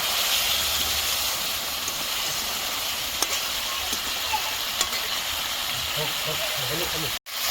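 Egg tomato curry stirred in a hot pan, a steady sizzling hiss with faint scraping strokes near the end and a brief dropout at the close.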